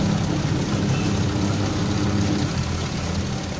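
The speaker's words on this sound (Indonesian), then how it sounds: "Ini mesin cuci merek Konka." A Konka XPB-80M2 washing machine running, giving a loud, steady, close drone that holds unbroken throughout.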